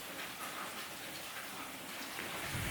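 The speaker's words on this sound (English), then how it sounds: "All the rain falling down out here." Steady rain falls outdoors across a property, a continuous dense hiss of drops pattering on surfaces, fairly even and close, with no voices.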